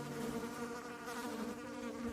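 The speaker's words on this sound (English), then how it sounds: "He heard the flies before he could see them. Hundreds of them, buzzing around the stainless steel Frigidaire." Houseflies buzz around a stainless steel Frigidaire refrigerator, making a continuous, wavering drone that stays steady throughout, close and moderately loud, with no voices.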